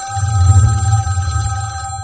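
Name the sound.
telephone ringing, incoming phone call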